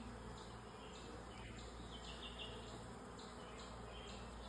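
Bees hum in a steady, dense drone during a swarm removal, with occasional faint higher buzzes over a constant low background.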